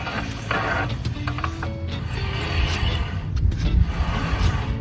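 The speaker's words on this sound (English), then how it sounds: "getting a squeak on my brakes here." Car brakes, with a suspected park brake fault, give off faint intermittent squeaks and light mechanical ticking as the wheel turns, heard close up over a low background rumble.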